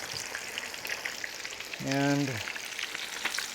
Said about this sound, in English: They're sizzling very sharply, which will mean that they're going to get done quickly